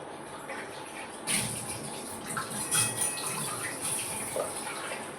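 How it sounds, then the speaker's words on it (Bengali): A cup is rinsed under a running kitchen tap, a steady stream of water with splashing that grows louder partway through as the cup meets the flow. "এই কাপটা ধুয়ে নিই"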